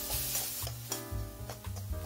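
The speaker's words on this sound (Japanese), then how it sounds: "鍋をそのまま中火で再び加熱したら、豚肉を入れてゆっくり炒めてください。" Pork stir-frying in a pan, with a steady sizzle and repeated scraping strokes of a utensil at close range, with no talking.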